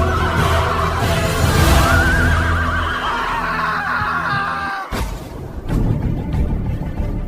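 Several horses neigh and whinny loudly in overlapping calls, followed by a brief crashing break and more agitated horse noises.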